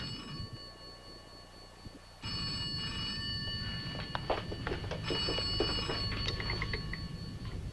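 A telephone rings on the doctor's direct line, its bell trilling in steady repeated bursts, loud and close in a quiet room.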